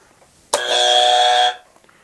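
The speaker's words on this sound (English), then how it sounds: "There, it was on the buzzer." A quiz buzzer during a football trivia game sounds once, a loud, steady electronic tone lasting about a second that cuts off cleanly, with no talk over it.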